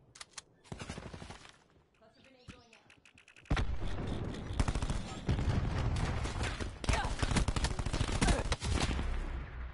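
Rapid gunfire in Call of Duty Black Ops 4, with a few sharp shots at first, a quieter gap, then dense close bursts of automatic fire mixed with heavier booms, while players talk over it.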